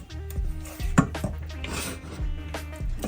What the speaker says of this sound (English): I'm gonna be stirring a bit.